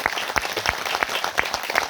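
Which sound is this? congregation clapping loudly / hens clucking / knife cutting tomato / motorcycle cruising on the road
congregation clapping loudly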